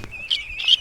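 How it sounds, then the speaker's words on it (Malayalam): A duckling, held in the hand, gives two short, high, close cheeps within a second. "കാണിച്ചു കുഞ്ഞു താറാവുകളാണ്."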